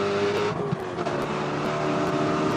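Spec Corvette race cars climb a hill at full throttle, a dense, loud engine roar that holds steady throughout with rising pitch sweeps as the cars pass and rev.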